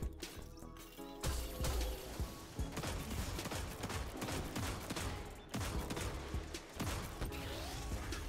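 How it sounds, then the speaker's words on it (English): Sustained gunfire in a Grandmaster Fallen S.A.B.E.R. video game run, aimed at a warmind cell: dense, rapid shot bursts layered with mechanical clanks and impacts, loud and continuous throughout with only brief dips. "Trying to shoot that warmind cell"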